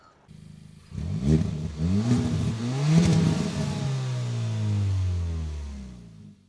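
A Kia Cerato GT's turbo four-cylinder engine revs up from idle in several quick throttle blips, then settles into a steady, loud exhaust drone that slowly fades, recorded close with no talking.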